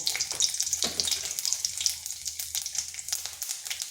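Dried red chili and whole cumin seeds sizzle in a spoonful of hot oil, a close, bright hiss dotted with quick pops and crackles throughout.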